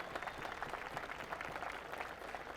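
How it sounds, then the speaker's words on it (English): Audience applause for Kevin Quinn at a professional top-16 competition, a steady dense clapping wash filling the room throughout. "can we also get a huge round of applause for wherever he is in the back for Kevin Quinn"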